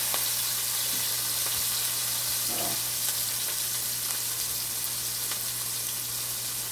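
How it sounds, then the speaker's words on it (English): Green onions and purple onion sizzle in hot oil for a Jamaican dish, making a steady, even frying hiss throughout with a faint low hum beneath and no talking. "I'm gonna add my onions, my green onions and purple onion in first"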